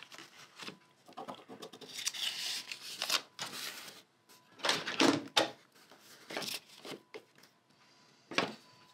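Appliqué fabric being trimmed with scissors gives quiet, close snips and rustles in irregular bursts, with soft handling of the cloth between cuts and no talking.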